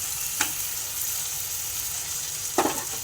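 Potato and green chilli curry sizzles steadily in a pan as ground green chilli paste goes in, with a soft continuous fry and two brief scraping stirs, no talking.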